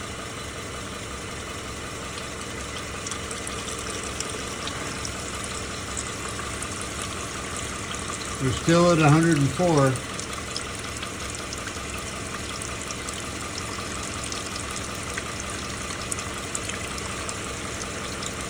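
Subaru CVT transmission fluid at 104 degrees drains from the car in a steady, continuous stream under a constant idling hum, with a short spoken remark partway through.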